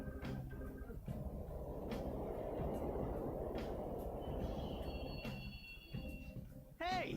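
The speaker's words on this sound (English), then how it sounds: "Hey! The train's totally running." A subway train runs through a tunnel in the video game Persona 5, a low rumbling roar that swells and holds steady before fading, with sharp clanks at the start and a brief electronic chime near the end.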